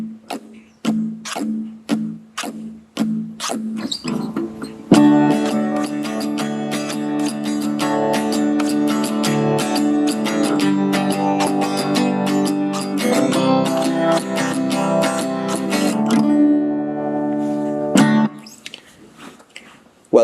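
A guitar is strummed using combined forearm and wrist motion, opening with sparse single strokes, then shifting into dense continuous strumming that rings loud and even before a few closing hits.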